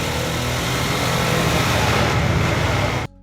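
A Harley-Davidson Sportster S 1250 engine runs steadily up close, a continuous rough drone that cuts off abruptly near the end.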